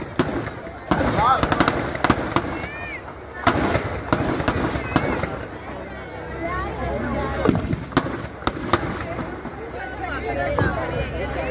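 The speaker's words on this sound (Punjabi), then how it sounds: "ਬਹੁਤ ਹੀ ਸੋਹਣਾ ਫਾਇਰ ਵਰਕ" Fireworks at a Dussehra fair on a college ground in Sangrur, Punjab: repeated sharp cracks and popping bursts at irregular intervals over a constant crowd hubbub, with people talking throughout.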